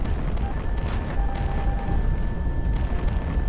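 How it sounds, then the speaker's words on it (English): Big explosions in the air-combat game Project Wingman, a dense continuous rumble of heavy booms layered with broadband crackle and a steady tone, loud throughout with no clear gaps. "Oh my, those are some big explosions."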